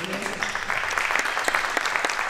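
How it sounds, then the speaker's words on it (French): Brief clapping from a group gathered around young players at a half-court defence training session, a steady patter of many hands close by. "On les applaudit, on les applaudit."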